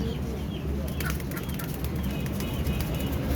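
Pigeons cooing and fluttering at Lahore's Data Darbar pigeon market amid a dense, noisy background murmur, close and steady throughout.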